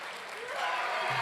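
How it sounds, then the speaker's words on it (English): Steady applause from a crowd, a broad wash of clapping that holds at an even level throughout. "Let's give them a round of applause"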